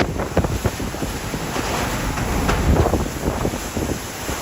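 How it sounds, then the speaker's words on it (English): Massive storm waves surging and crashing against the Outer Banks coast during Hurricane Erin, a constant loud roar of surf churned with heavy wind buffeting the microphone, with no voices. "massive waves crashing over their foundations"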